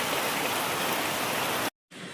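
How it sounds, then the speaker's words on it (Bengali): Heavy rain pours down as a dense, loud, even hiss outdoors at night near a street tea cart, breaking off briefly near the end before resuming. "এই যে এত বৃষ্টি এসে গেল"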